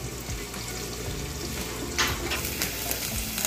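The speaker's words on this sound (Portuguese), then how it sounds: "Vou deixar aqui fritando um pouquinho" Garlic sizzles steadily in a hot pan before rice is added, a dense close crackle with occasional scraping stirs.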